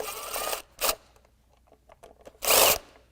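A power tool with a socket whirs in short bursts while removing nuts from a SnowDogg snowplow halogen light housing, with a brief spin, a quick blip, then a louder final burst and small metallic clicks between.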